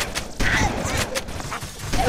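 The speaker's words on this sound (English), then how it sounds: "that shotgun blast took out that Covenant in one shot" A shotgun blast in Halo: Combat Evolved hits a Covenant enemy as a loud, dense burst of firing and crashing game noise. Someone talks over it during the brief moment.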